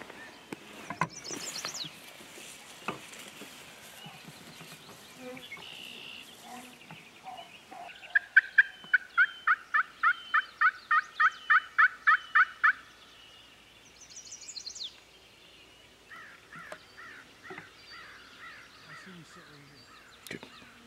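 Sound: wild turkey gobbling

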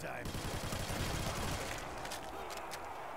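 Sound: gunfire from a video game (World at War zombies)

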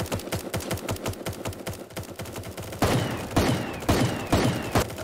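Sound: pistol gunfire in Super Animal Royale video game

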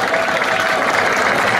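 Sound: audience applause at a DJ battle

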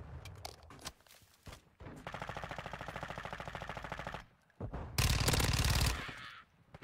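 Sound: sniper rifle gunfire in a video game

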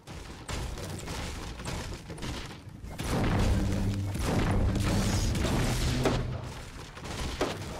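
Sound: gunshots in Fortnite video game

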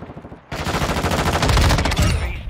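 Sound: M13 rifle gunfire in video game Modern Warfare 2

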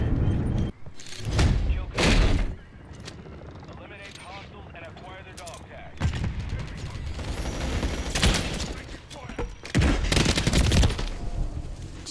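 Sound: gunfire from the video game Modern Warfare

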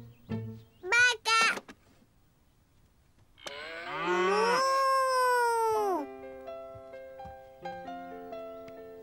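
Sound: cow mooing

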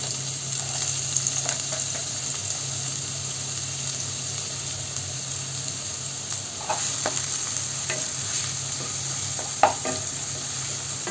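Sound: finely chopped onion sizzling in oil while stirred

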